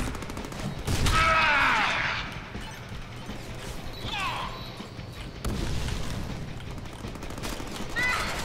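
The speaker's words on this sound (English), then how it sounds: "Machine gun." Machine gun fire in the Deadpool video game clatters in rapid bursts amid crashing in-game effects and mechanical clanks, with the fire coming loud and close in several separate volleys.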